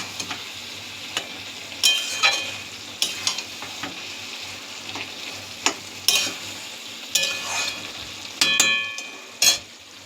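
Cabbage and fish curry with tomato is stir-fried in a pan, a continuous sizzle broken by repeated sharp scrapes and clatters of a spatula against the metal, close and fairly loud.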